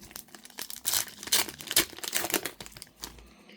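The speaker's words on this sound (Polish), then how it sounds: "otwieramy trzy saszetki" Panini FIFA 365 card packets are torn and crinkled open up close, sharp bursts of foil-like tearing and rustling in quick irregular clusters, otherwise quiet.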